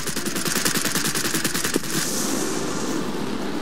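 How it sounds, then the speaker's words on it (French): Anti-aircraft fire in the World of Warplanes game: a rapid string of loud, sharp repeated gun bursts for about two seconds, giving way to a rushing, hissing roar. "Vous êtes sous le feu anti-aérien."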